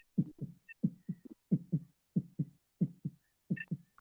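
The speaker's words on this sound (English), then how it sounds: "The heart beating fast." Rapid double-thump heartbeat, lub-dub pairs repeating quickly and steadily at close range with a faint hiss, and no talking.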